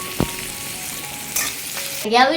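Chicken marinated in salt and turmeric cooks in a pan, giving a soft steady sizzle with a few brief clinks and stirring scrapes, then a louder burst of frying near the end.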